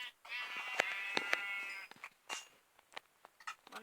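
A single Minecraft sheep bleats with a drawn-out, wavering cry that lasts about two seconds. Scattered clicks and short game noises follow.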